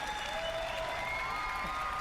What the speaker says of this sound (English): See, this applause is worth it